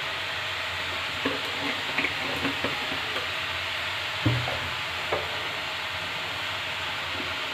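Oil heating in a pan for frying fish gives a steady, broad sizzle. A few soft clanks and taps from the pan come through over the hiss, and no one speaks.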